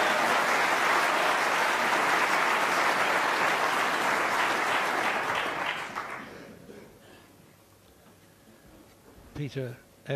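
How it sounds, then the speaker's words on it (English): A snooker crowd at the 2012 World Championship final breaks into loud, sustained applause for about six seconds, then it fades to quiet murmurs before a commentator starts speaking. "leading the applause there"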